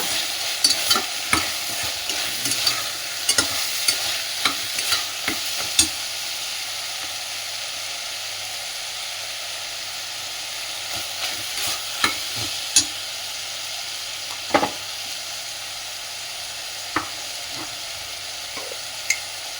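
A ground paste sautéed in a pan for sweet corn rice bath, with a low steady sizzle and hiss under repeated sharp scrapes and taps of a spoon, close by and wordless.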